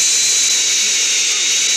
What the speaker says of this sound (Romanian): Avion, avion!